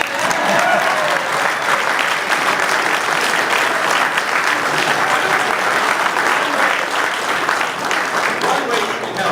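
A Democratic campaign crowd at a reelection announcement rally breaks into loud, sustained applause, even and dense throughout, with some voices mixed in.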